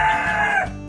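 Chickens in a charcoal-lined backyard coop call out in a close, loud, steady stream of clucking and crowing-like vocalizing that eases off near the end.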